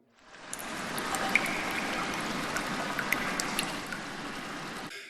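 Cave ambience from a background sound app: a constant wash of trickling, flowing water with faint scattered drips and small splashes on top, moderately quiet and steady, fading in and out at the edges.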